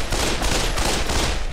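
Rapid gunfire bursts from weapons in the VR shooter game Pavlov, a dense, continuous fusillade with no gaps, loud and close throughout.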